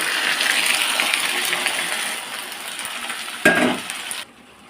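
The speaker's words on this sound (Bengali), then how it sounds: "আমি যে ম্যারিনেট করে রেখেছি মাংসটা দিয়ে দিলাম" Marinated goat meat hits hot oil in a pan with onions already fried, giving a loud, steady sizzle that fades slightly, a sharp burst near the end, then drops to a quiet hiss.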